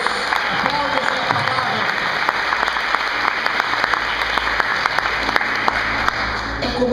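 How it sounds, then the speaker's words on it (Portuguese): Congregation applauding at a church service after a scripture reading, loud, sustained crowd clapping with sharp individual claps, voices speaking over it and a faint musical drone underneath. "Então vamos aplaudir a palavra de Deus."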